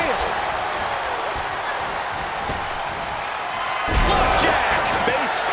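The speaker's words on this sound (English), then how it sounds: "These fans are sending the decibel level off the scale." A wrestling arena crowd in the WWE 2K24 video game roars and cheers steadily, swelling louder near the end, beneath occasional ring impacts.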